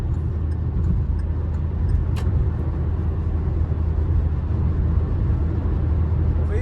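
Steady, loud interior drone of a 2022 Hyundai Creta Action 1.6 petrol car cruising at 100 km/h on a slight downhill highway stretch, with continuous engine and road rumble throughout.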